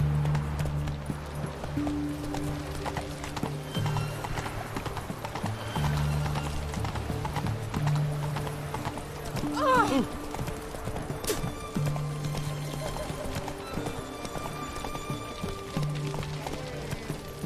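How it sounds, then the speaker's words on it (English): A horse gallops in The Witcher 3 with steady, rhythmic hoofbeats that carry on throughout, accompanied by a brief neigh partway through and a low droning game soundtrack beneath. "Whoa there, Roach."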